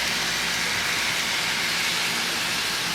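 A small Baltimore model train runs around a Christmas town layout, giving off a steady, even rolling whir and hiss that carries on without a break and without voices.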